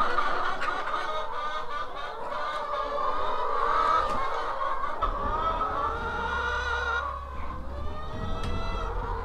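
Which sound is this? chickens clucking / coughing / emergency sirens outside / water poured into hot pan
chickens clucking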